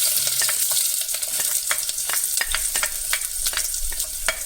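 Onions hit hot oil with popping mustard seeds while upma is being made, a close sizzle broken by frequent sharp crackles and spatters, with no talking.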